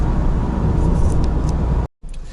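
Hyundai Grand Starex limousine high-roof van driving, a steady broadband road and engine rumble heard from inside, cutting out briefly near the end.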